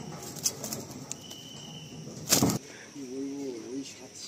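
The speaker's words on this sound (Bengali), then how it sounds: "এটা নর পায়রা" A big male Giribaj pigeon in a loft, with a brief burst of wing flapping followed by a low rolling coo, set against a faint, steady background.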